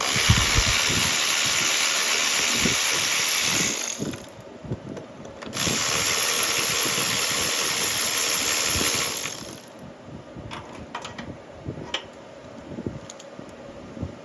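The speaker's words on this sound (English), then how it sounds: "That's the TikTok cordless ratchet." A TikTok cordless ratchet with a 10mm socket runs off the carburetor nuts on a Kohler 7000 engine. There are two long, loud whirring bursts, then quieter ticks and clicks from the tool and small parts.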